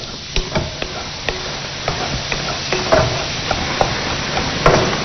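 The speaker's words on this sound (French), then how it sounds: "À présent, je remue un peu mon oseille." A spoon stirs sorrel leaves cooking in a pot for a Chadian fish dish, giving close, loud scraping and clinking strokes at a steady rhythm over a soft sizzling bed.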